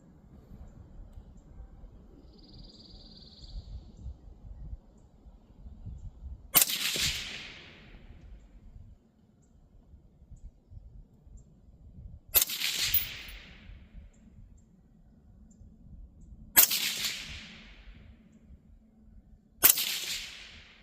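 AR-15 rifle with an 18-inch Rosco Purebred SPR barrel fired at an outdoor shooting range, four sharp, loud single shots spaced several seconds apart, each with a ringing decay, over quiet background noise.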